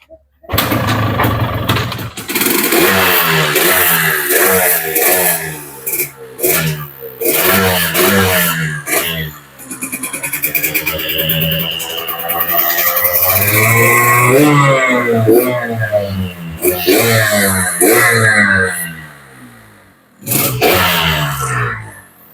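A two-stroke motorcycle in full original condition is started and revved in repeated bursts, the engine rising and falling sharply between short idle pauses, loud and close.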